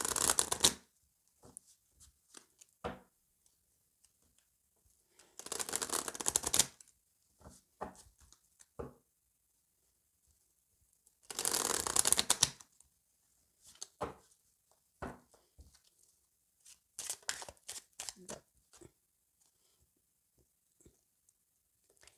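Oracle cards being shuffled by hand in several brisk bursts with quieter pauses and small taps between them, close up, with no talking.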